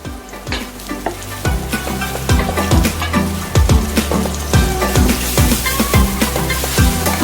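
Red onions fry for dinuguan in a pan, with a steady sizzle throughout and a regular rhythm of repeated thumps and stirring knocks. Nobody speaks.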